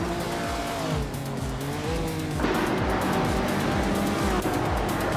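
A 1969 Dodge Charger Hemi races in a video game, its loud engine repeatedly revving and shifting in quick rising sweeps while tires squeal, with a sharper surge midway.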